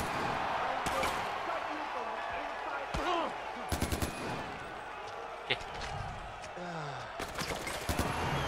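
Gunfire in the shooter Far Cry 4, sharp single shots and short rapid bursts scattered across a busy arena backdrop, some close and loud, while voices talk over the action.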